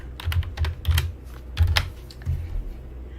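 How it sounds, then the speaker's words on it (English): Computer keyboard typing, a message being entered in quick irregular bursts of sharp close key clicks with short pauses between them. "Just type some message."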